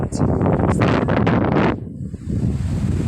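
Strong typhoon wind buffets the microphone with a loud, rushing roar, briefly easing before surging again, in Camiguin.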